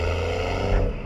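BMW 440i with a catless downpipe, engine droning steadily up close from inside the car as the turbo spools, a dense continuous tone for about a second.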